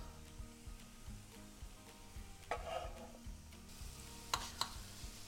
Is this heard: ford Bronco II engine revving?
no